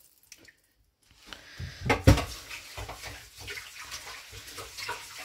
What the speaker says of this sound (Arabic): وهاد القمه اللي بقات هنا راه كدير عليها الماء، كندير عليها الماء